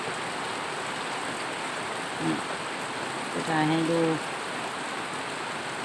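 Steady rain falls as a dense, even hiss throughout, with someone talking briefly over it partway through.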